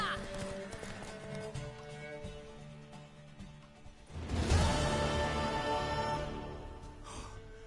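Galloping horse hooves in The Witcher video game, a rhythmic clip-clop that swells louder midway amid game music and a brief whinny, with voices speaking in places.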